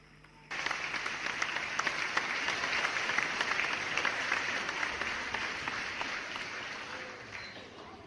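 Applause during a YouTube livestream Q&A starts abruptly after a brief quiet moment, then runs as a full, steady round of clapping before tapering slightly at the end.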